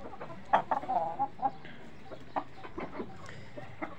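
A Gavrani desi village hen clucks in scattered short bursts, some sharper and louder, spaced irregularly and heard nearby in a quiet setting.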